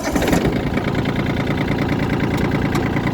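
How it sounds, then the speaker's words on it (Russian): A Yanmar RS-240 tractor's diesel engine cranks and catches, settling into a steady, knocking idle close by with a rhythmic low chug. "Послушайте, как заводится. Сейчас заведем."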